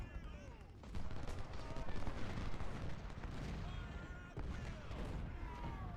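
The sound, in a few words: artillery fire in the video game Ultimate General: Civil War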